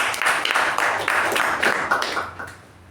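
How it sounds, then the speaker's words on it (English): A Toastmasters meeting audience gives a round of applause: dense, even clapping from many hands that holds steady and then fades out toward the end, with no talking over it. "Please welcome him with a huge round of applause."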